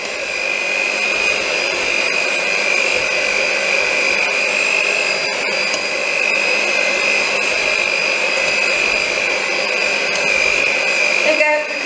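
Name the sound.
electric whisk mixing gingerbread batter with eggs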